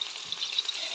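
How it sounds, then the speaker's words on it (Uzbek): Potatoes go into a pan of lamb and beef that is already frying, giving a steady, bright sizzle with small crackling pops throughout and no voices. "Endi kartoshkamizni solamiz"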